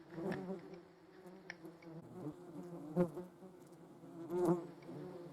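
Hornets and yellow jackets buzz close by while crawling on bare hands, a steady insect drone with a few louder swells as individual wasps pass near, no voices.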